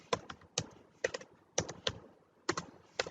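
Fingers typing an email on a computer keyboard: quick clusters of crisp, close key clicks in an uneven rhythm, with brief pauses between bursts.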